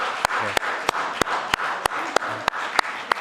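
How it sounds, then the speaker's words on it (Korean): Korean Sunday church congregation applauding the fathers standing among them: a soft bed of clapping with sharp, evenly spaced claps cutting through about three times a second, steady throughout. "우리가 한번 박수로 감사하겠습니다"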